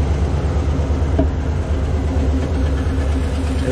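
A car engine runs steadily up close with a low, rough rumble and a faint repetitive knocking from the left side of the engine under the drone.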